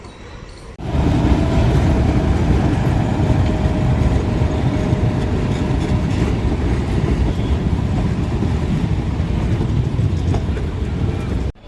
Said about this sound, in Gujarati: મીટર ગેજની આ ટ્રેન જો બતાવું તમને